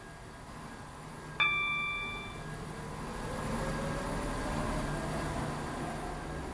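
A Class 170 train in the video game Stepford County Railway rumbles steadily along with a brief chime at the start, the low running noise swelling slightly as it continues.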